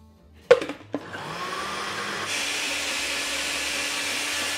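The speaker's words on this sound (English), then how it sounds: "I'm gonna strain out the parsnips and blend them up with some of this mixture." Two sharp clunks come first, then a kitchen blender whirs steadily as it purees strained parsnips with a cream mixture. The motor is loud and close and runs alone to the end.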